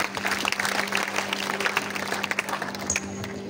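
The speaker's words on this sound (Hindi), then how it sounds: "जोरदार तालियों से स्वागत करिए" Audience applause in a school assembly welcoming a Class 8 girl to recite a poem on character building, a steady dense patter of many hands clapping at moderate distance, continuing throughout with no talking.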